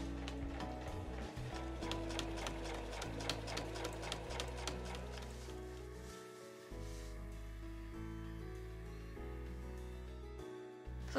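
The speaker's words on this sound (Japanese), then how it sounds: "そうしたらこの際を両方縫います。" A sewing machine stitches along the edges of quilted nubi fabric for a large tote bag, a quiet rapid ticking in the first half under soft background music that carries on alone.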